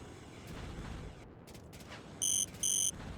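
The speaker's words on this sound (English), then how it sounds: "That beeping we hear is Imphenzia's out of gas" Two short, high electronic out-of-gas warning beeps in the strategy game Line War sound near the end over a steady low background rumble.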